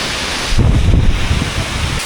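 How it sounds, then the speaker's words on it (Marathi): Strong monsoon wind gusts in rainy Konkan weather, a broad roaring wash that swells loudly after the first half second and stays buffeting and uneven before easing near the end. "बेकार एकदम वारा आला आहे."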